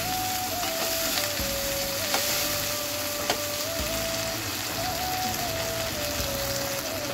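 About two spoonfuls of ginger garlic paste sizzling as it fries in a pan, a steady dense crackling hiss close by with a few faint stirring knocks and no talking.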